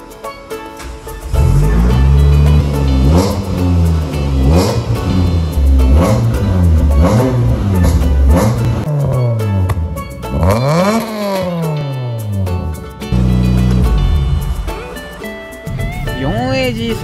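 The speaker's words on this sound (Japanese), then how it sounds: "4AG サウンドはたまんないね。" A small Toyota 4A-G four-cylinder engine in an AE111 revs repeatedly, climbing and falling in sharp bursts, loud and close, with a pause near the end.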